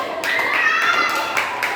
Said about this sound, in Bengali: এই হাততালি দাও, হাততালি দাও, হাততালি দাও